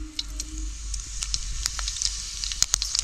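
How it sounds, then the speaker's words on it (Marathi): Mustard seeds and cumin sizzle in hot oil, a steady frying hiss broken by sharp pops and crackles of bursting seeds, close and alone without talk. "तेल गरम झालं, आता आपण मोहरी घालू, जिरं,"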